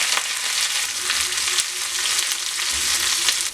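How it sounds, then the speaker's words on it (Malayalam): Curry leaves and green chilies fry in hot oil for a curd rice tempering, a dense, loud crackling sizzle with sharp spits and pops throughout. "കറിവേപ്പില പച്ചമുളക് ഇത് നല്ലപോലെ മൂപ്പിച്ചിട്ട്"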